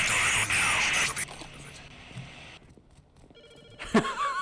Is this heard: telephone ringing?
yes